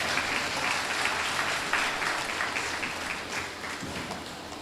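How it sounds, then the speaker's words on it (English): Steady applause from an audience at a community activists' award ceremony, a dense even clatter of clapping held at moderate level for several seconds with no talk over it. "give all our diehard soldiers a round of applause"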